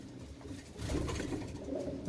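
Pigeons in a coop holding many young chicks give low, murmuring coos that swell and continue after the first moment, close by and steady with no talking.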